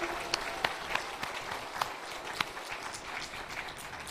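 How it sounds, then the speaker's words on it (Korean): A church congregation at a Sunday worship service claps, giving faint, scattered, uneven claps with distinct individual hand strikes over a soft room background. "하나님께 영광의 박수 한번 합니다."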